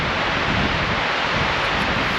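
Steady wind roars and buffets the microphone, a broad rushing noise that stays constant and loud throughout, with no voices.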